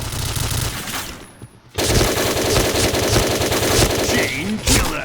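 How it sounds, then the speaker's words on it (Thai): A K2C rifle fires in Point Blank, the online shooter game, in a loud, rapid automatic burst. After a short pause the burst resumes and runs steadily, with faint game effects underneath. "ว่ามันก็ยิงดีนะแต่คน ไม่มีคนเล่นนะปืนนี้"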